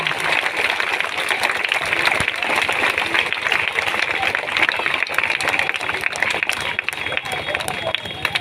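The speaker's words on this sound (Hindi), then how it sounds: "ताली बजाइए आप लोग" An audience in a hall applauds loudly, dense clapping running steadily throughout with crowd noise and voices mixed in underneath.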